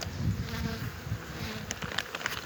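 Bees swarm and buzz inside an opened beehive at an apiary in February, a dense, steady, close hum that fills the whole stretch with no pauses.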